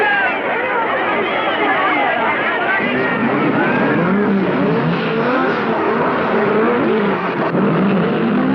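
Race cars, a Ferrari, Porsches and a Ford among them, pulling away at the start of a 1960s race, a continuous loud engine roar mixed with crowd chatter throughout.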